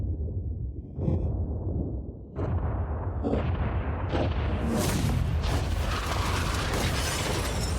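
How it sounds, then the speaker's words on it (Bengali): A yacht blown up by explosives: a dense, roaring wall of blast noise with several sharp cracking bursts stacking up and growing brighter and louder, continuous and overwhelming throughout. "3 2 1 উড়িয়ে দাও।"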